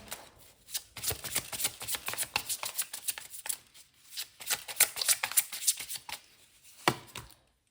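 Tarot cards being shuffled by hand, a dense run of crisp riffling and flicking bursts with brief pauses, close and fairly loud, no voices.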